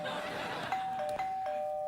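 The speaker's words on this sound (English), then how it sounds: "I just wanted to press the doorbell to drive the crew crazy." A studio doorbell pressed on a late-night talk show set, giving a steady electronic chime tone that starts partway through and holds under light clatter, with a few brief sharp knocks.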